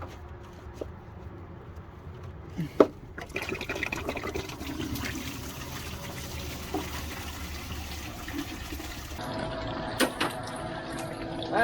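Old, brown, rusty coolant drains out of a car in a steady, continuous splashing and trickling stream that runs for around twelve seconds with a few louder spatters, and no one speaks.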